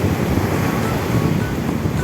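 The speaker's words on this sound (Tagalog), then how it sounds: "Ang ganda ng alon." Loud, continuous surf roars with crashing ocean waves and wind noise at a surfing beach in La Union, Philippines, steady and close, with no voices.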